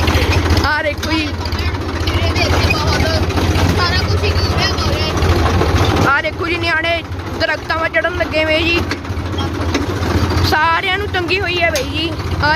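Motorcycle engines run on a broken forest road, a continuous droning engine rumble heard under almost constant talking from several people.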